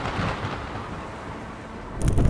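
A thunder and lightning strike sound effect: a low, rolling storm rumble builds into a sudden loud, sharp crash near the end, with no voices.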